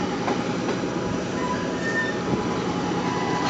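Conway Scenic Railroad train riding toward Crawford Notch, New Hampshire: a continuous, loud rumble of rolling wheels and carriage noise with faint clacking and brief squeals, heard from aboard with no talk.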